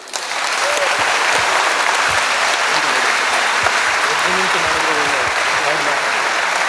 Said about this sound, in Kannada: ಹೃದಯಾಂತರಾಳದಿಂದ ಒಮ್ಮೆ ಕರತಾಡನ ಮಾಡಿಬಿಡಿ